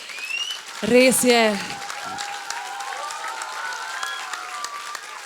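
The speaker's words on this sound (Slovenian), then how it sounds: "En velik, velik aplavz." Applause from an audience at a reception for a winning volleyball team, a short burst of talk at the start, then steady clapping that carries on at moderate volume behind faint voices.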